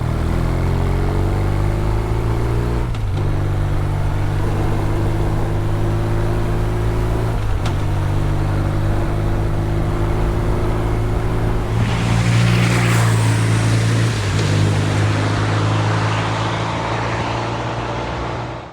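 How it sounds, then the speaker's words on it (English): A big BMW R 12 NineT flat-twin motorcycle engine runs steadily with a deep, lumpy low rumble and a pulsing beat, revving up briefly near the end, no talking. "you're greeted with the wobble of that big flat twin engine"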